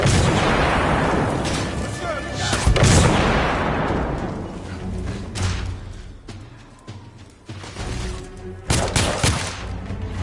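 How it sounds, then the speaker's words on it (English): A grenade blast and bursts of gunfire in a PS4 shooter, with loud booming explosions and rattling volleys coming in waves, mixed with in-game voices shouting. "Grenade!"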